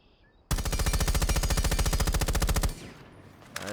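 Rifle with a compensator attachment firing in Rainbow Six Siege, a loud, rapid, evenly spaced automatic burst of roughly two dozen shots that stops abruptly, followed by a brief quieter tail.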